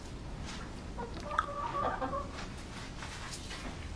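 Hens clucking softly in a short cluster midway through, over a steady low background hum and noise; no voices.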